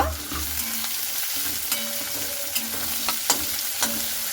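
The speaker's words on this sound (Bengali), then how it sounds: "এরপরে দিয়ে দিতে হবে সেই পেঁয়াজ কাটাগুলো। পেঁয়াজটাকে খুব ভালো করে আমি ভেজে নেব।" Chopped onions frying in hot mustard oil for a chicken dish, a constant close sizzle with regular scraping stirs of a spatula against the pan, fairly loud, no speech.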